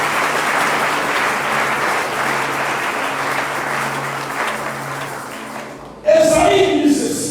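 Church congregation applauding during a Sunday service, sustained loud clapping from many people that fades out, then a voice speaks close at the end.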